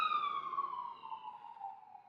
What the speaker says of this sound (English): Hold on, we got a siren.